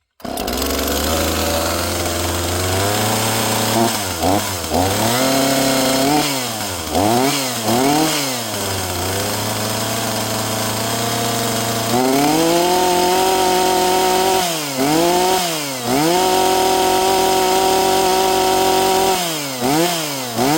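A used chainsaw bought secondhand from an online marketplace runs loud and close throughout, its engine revving up and dropping back repeatedly in uneven bursts between steady idle-to-high stretches.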